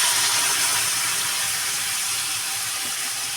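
Water poured into a hot pan of cooked shrimp heads, a loud sharp hiss of steam close by that slowly fades over a few seconds.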